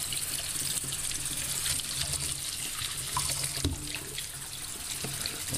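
Warm water pours steadily into a container of salt, a continuous close trickling splash with a few small clinks, ready for coin-cleaning electrolysis.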